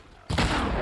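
A single loud gunshot from the video game Horizon erupts suddenly and booms close and heavy, then its rumble carries on to the end.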